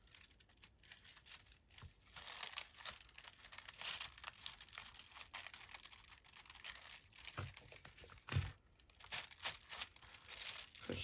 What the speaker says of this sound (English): Put this bit of tissue over it